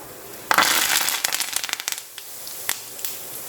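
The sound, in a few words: cumin, round red chilies and curry leaves crackling in hot oil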